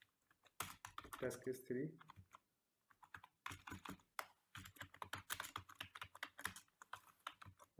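Quick, uneven bursts of clacking on a computer keyboard, with short pauses between runs of keystrokes, while a voice speaks briefly over the typing.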